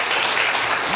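A lecture audience breaks into a short burst of even, full applause, close and loud, with no one speaking over it.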